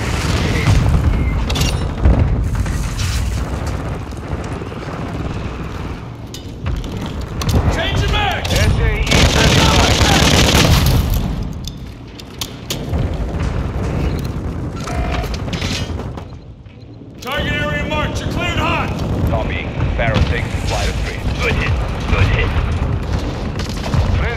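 Mortar strike explosions in Call of Duty Modern Warfare 2 Team Deathmatch on the Shipment map: loud, repeated booms and heavy blasts mixed with gunfire, nearly continuous for most of the stretch, with game voices calling out over the action.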